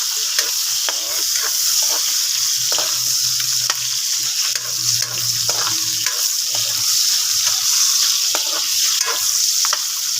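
Food sizzles and fries steadily in a pan while being stirred, with repeated scraping strokes over a constant loud hiss, close up and without talking, during preparation of a catfish dish.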